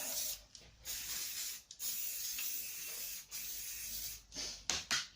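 Velo by Bluefix chain cleaner degreaser sprays from an aerosol can onto an air rifle's barrel, cylinder, silencer and scope rail mount, a close, quiet hiss in several bursts separated by brief pauses.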